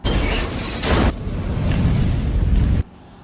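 A car explodes after being shot up by a gang in an action film, a loud roaring blast with a burst of debris that rumbles heavily and then cuts off sharply.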